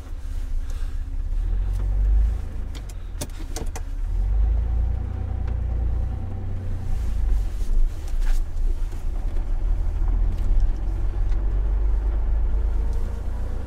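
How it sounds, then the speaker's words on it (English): An off-road vehicle driving with its sway bars disconnected, a deep steady engine and tyre rumble with wind buffeting the microphone and occasional knocks and creaks throughout. "Now, let's go for a little bit of a drive."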